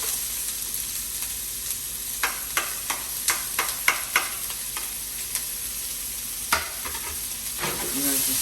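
Onions frying in a pan, about to be joined by jalapenos, give a constant crackling sizzle, punctuated by a run of sharp spatula taps and scrapes against the pan; no voices.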